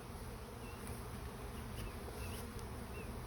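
Honeybees buzz steadily around an open hive during an inspection with a swarm cell, a dense, close, continuous drone with individual bees whining past at moments.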